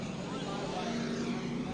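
Sportsman race cars doubled up two by two roar down the back straight of New Smyrna Speedway, a dense, loud, continuous engine drone filling the short stretch without breaks.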